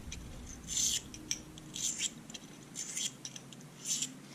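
A knife edge is drawn across a Smith's pocket hone sharpener to weaken the burr, giving several short, close rasping strokes in an uneven rhythm.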